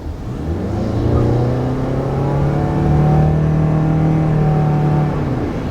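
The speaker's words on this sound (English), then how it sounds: "It just revs a little higher and it gives you a little bit more pickup." A 2019 Toyota RAV4 Hybrid revving higher in sport mode, heard from the cabin as a loud continuous engine drone that climbs and holds steady for about five seconds without any talk.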